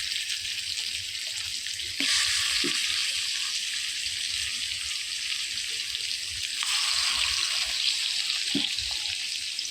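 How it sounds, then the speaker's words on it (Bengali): Fish fries in a little oil in a hot kadai, a steady close hiss of sizzling that swells louder at moments, with a few faint clicks and no voices. "মাছটা ভেজে নিই। আর দেখতেই পাচ্ছ তেল কিন্তু খুব কম দিয়েছি, অল্প তেলে মাছ ভাজবো"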